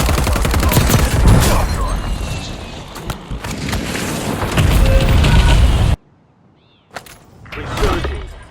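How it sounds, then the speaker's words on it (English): Loud battle noise from the video game Warzone 2.0, with dense bursts of gunfire and heavy booming blasts from an enemy precision airstrike, followed by a sudden near-silent gap, then a few more impacts. "Enemy precision airstrike."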